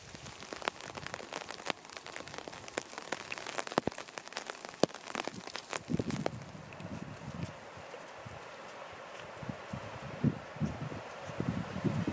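Steady rain patters close by on a taut umbrella in an autumn forest, the drops tapping densely and unevenly, then thinning to a softer, scattered patter.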